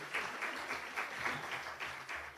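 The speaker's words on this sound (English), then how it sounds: "Please give her a big round of applause." An audience at the W20 South Africa Summit applauds with dense, continuous clapping, a moderately loud round of applause that holds steady throughout.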